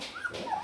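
Rajapalayam male puppy whimpering, with a broad head, at a kennel; two short, thin high whines come in quick succession against a faint background hum, close by and with no talking.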